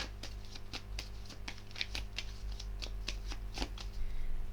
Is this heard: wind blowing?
no